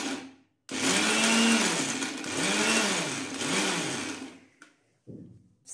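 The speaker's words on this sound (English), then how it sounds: "Now you will see how I am grinding this." An electric grinder pulses through roasted dry fruits, a loud whirring burst running about four seconds with wavering load, then stopping, followed by a short second burst.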